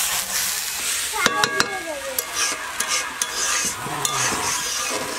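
Gobindobhog rice tossed into a pan with fried dal and ginger-cardamom paste for a Bengali Laxmi Puja dish, sizzling steadily while a utensil scrapes and clicks against the pan in a few sharp taps, close up, no talking.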